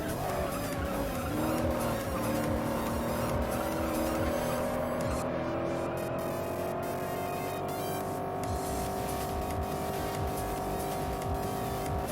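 A Camaro race car lapping a track in the video game Juiced gives off a loud, sustained engine whine that rises gradually in pitch, with tire squeal mixed in and no talk.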